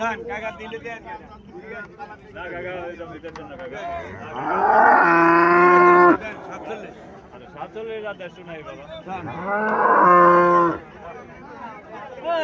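An Indian Mundi cow and a Friesian heifer calf at a cattle market give two loud, drawn-out moos a few seconds apart, close by, with background chatter from people around them.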